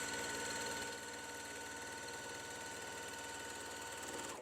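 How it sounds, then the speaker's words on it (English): A sewing machine stitches quilt block pieces straight down the middle, a fast, steady mechanical whir with even rapid ticking, fairly quiet and alone. "And then we're going to sew straight down the middle."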